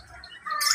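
Black-naped oriole (kepodang) gives a short, harsh call that rises into a louder, raspy squawk at the end, brief and fairly close.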